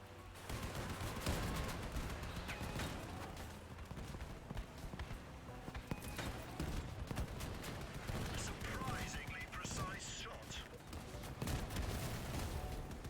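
Shotgun shells fired downrange in rapid repeated blasts, a dense volley of loud shots continuing throughout with people talking among the gunfire.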